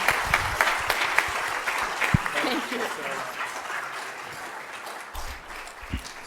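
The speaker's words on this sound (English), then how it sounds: "Let's give Lily a round of applause" An audience at an evening lecture claps for painter Lily Stockman, with dense applause from the start that slowly thins and fades. A few sharper claps and some murmuring stand out near the end.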